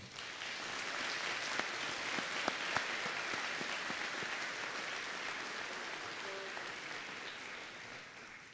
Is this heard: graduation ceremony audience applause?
yes